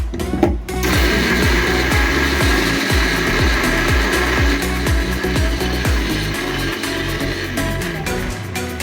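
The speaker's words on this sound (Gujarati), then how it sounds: "એ મરચાં અને લસણ ક્રશ થઈ ગયું છે હવે મિક્સરમાં" A kitchen mixer grinder crushing green chillies and garlic runs loud and close, a steady motor whine with rhythmic grinding pulses throughout.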